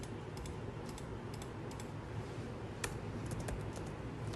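Keys on a computer keyboard clatter in quick, irregular bursts of light clicks while someone types into a Microsoft Excel spreadsheet, close and fairly soft, with brief pauses between runs.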